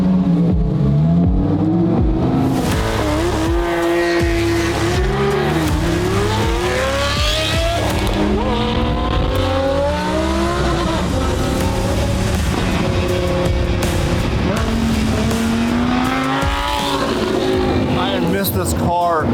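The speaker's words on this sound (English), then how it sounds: "This car so much. It's so rowdy" Rowdy car with a small flywheel and a new clutch master cylinder, its engine revving up and down close by through gear changes, with loud shifting engine tones under people talking.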